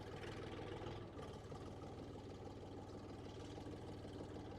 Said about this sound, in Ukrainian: Трьохциліндровий двигун КМ-385 відпрацьовує свою роботу повністю.